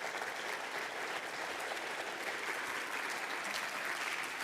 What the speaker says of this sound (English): I have to give you a big round of applause and a huge hug